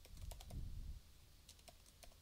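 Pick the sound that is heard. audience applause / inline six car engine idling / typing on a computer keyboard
typing on a computer keyboard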